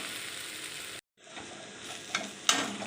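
Chilli powder and garlic paste frying in oil for a Bengali-style aloo dum give a steady close sizzle. It cuts out briefly partway through and returns with a couple of sharp stirring clinks.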